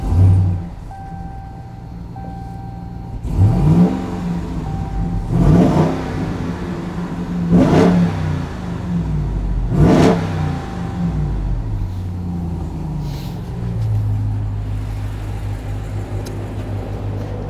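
A RAM TRX truck's 6.2-liter Hellcat V8 rumbles close by, revved hard four times in quick succession, each rev swelling and falling back to a deep idle, then idling steadily.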